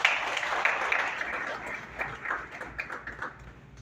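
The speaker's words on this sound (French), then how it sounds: "Veuillez applaudir, s'il vous plaît." A crowd claps at the Haitian youth government investiture ceremony, starting strong and gradually tapering into scattered, fading applause across a few seconds.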